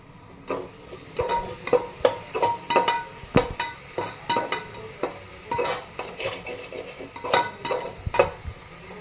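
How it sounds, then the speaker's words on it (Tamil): Ginger and garlic are stirred into a frying pan of softened tomatoes and green chilies for a homemade mushroom biryani. A spatula scrapes in quick, rhythmic strokes over a low, steady sizzle, close and clear. "இப்போ இஞ்சி பூண்டு ஆட் பண்ணிப்பேன்."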